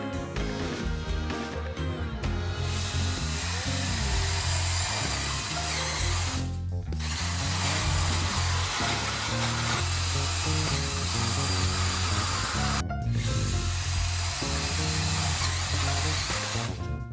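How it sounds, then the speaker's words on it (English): A power tool grinds away burrs to clean out a drilled hole while roof center-ring parts for a yurt are made, a loud, continuous whining buzz in long runs broken by two short pauses, with no talk. "I'm just cutting off all the burrs and whatnot to make sure I got a nice clean hole."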